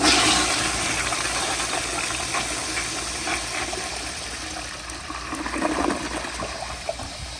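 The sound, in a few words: flushometer toilet flush, 1942 Standard Modernus, 3.5 diaphragm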